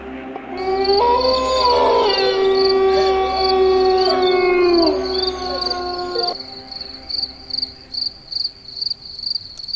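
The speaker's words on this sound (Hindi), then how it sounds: "अमावस्या की रात झींगुरों की आवाज आ रही है।" High, steady cricket chirping on a moonless night runs throughout, first under a long wailing, siren-like howl, then alone as loud rhythmic pulses.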